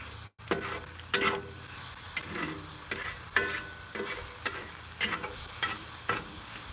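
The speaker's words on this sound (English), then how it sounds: "Let's stir that up." Seasoned cheesesteak meat with salt and pepper sizzles on a wood burning stove while a utensil stirs it, making repeated scraping strokes at a regular rhythm over a continuous close fry, with no voices.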